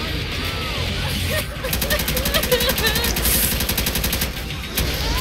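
Rapid automatic gunfire in Left 4 Dead 2 during The Sacrifice campaign, with sustained bursts of shots over game noise and a voice speaking throughout.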